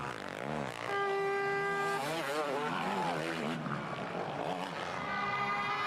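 Two-stroke motocross bikes racing on a sand track at a Motocross of Nations event in Lierop, Netherlands, engines wailing and rising and falling in pitch as they pass, loud and continuous under a commentator's voice.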